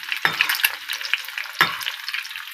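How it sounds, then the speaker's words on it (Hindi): Eggs fry in a pan, giving a steady soft sizzle, with two sharp scraping stirs of a utensil against the pan. "अब हम कर रहे हैं अंडे फ्राई"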